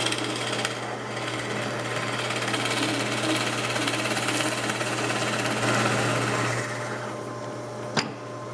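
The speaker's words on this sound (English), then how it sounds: "I'm going to drill a hole about an inch, inch and a half down into that 2x" Drill press boring a 7/8 inch Forstner bit about an inch or more down into a 2x wooden board, a steady loud motor hum and cutting drone that runs continuously, then winds down with a sharp knock near the end.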